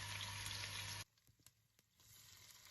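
Chopped garlic and onion fry in hot oil with a dense, loud sizzle for about a second, then the crackle drops to a faint spatter before building again softly.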